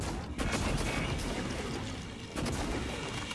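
GLOO cannon firing in the sci-fi game Prey, heard as dense, loud bursts of blasting noise that flare up twice over a few seconds, with no talk.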